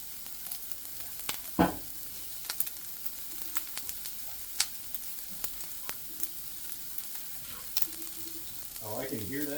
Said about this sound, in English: Oh, I can hear that sizzling from here.